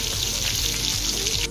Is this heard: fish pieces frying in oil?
yes